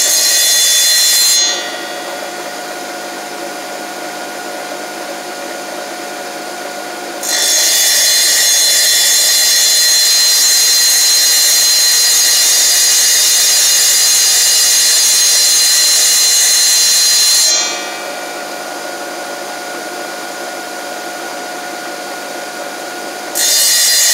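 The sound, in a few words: power saw cutting tile trim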